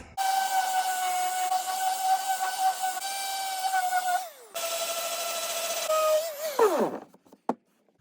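A powered tool sanding a cast resin piece for a resin and ash lamp: a loud, steady, high-pitched motor whine that drops briefly, resumes, and then winds down to a stop.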